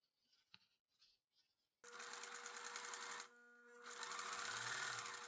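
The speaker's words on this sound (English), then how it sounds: "Now I'll sew the bottom of the bag and up the sides." Sewing machine stitching mosquito screen fabric into a bag for camper van windows, running loud and steady in two bursts separated by a short pause, with a few faint handling clicks beforehand.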